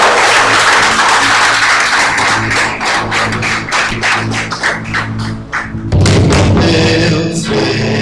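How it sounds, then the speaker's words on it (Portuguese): Church congregation clapping at a worship service in Alvorada, loud rhythmic claps with thumps and a swell of sound near the end. "Vamos dar uma salva de palmas ao Senhor."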